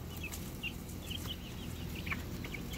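Aviary chickens clucking softly in short, scattered calls over a steady low background hum, with no voices heard.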